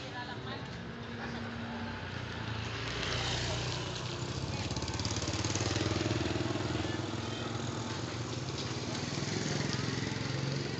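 A motorcycle engine running on a road during a drive, a steady droning hum that swells toward the middle and stays under ongoing conversation nearby.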